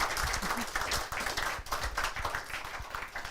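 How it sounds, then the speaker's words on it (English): A short burst of hand clapping from a small crowd at an astronomy festival evening talk at an observatory, steady and moderately loud, with a faint murmur of voices underneath. "Let's give another round of applause."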